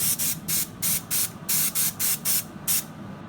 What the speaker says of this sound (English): I'm going to spray again just right in there and get that hole.